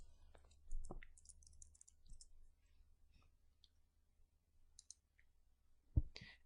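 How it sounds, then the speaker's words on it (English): Someone types a password on a computer keyboard, making a few sparse, quiet key clicks spread across several seconds in a hushed room, ending in a sharper tap. "Key in the password."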